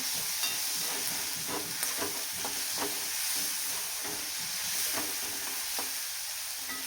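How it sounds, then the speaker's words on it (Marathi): Onion fries in plenty of oil for a dry bitter gourd dish, giving a soft, continuous sizzle with occasional light stirring taps, fairly faint and close, with no voices. "आता आपल्याला हे छान कांदा आहे तो ब्राऊन कलरचा होईपर्यंत भाजून घ्यायचा."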